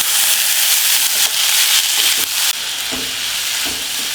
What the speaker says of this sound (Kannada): ಈರುಳ್ಳಿ ಸ್ವಲ್ಪ ಟ್ರಾನ್ಸ್ಪರೆಂಟ್ ಆದಮೇಲೆ ಟೊಮೆಟೊ ಹಾಕ್ತಾ ಇದ್ದೀನಿ